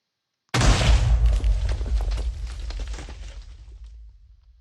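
A huge explosion in a modded Minecraft world bursts in from silence with a heavy low boom, then rumbles and crackles with debris as it slowly fades over several seconds.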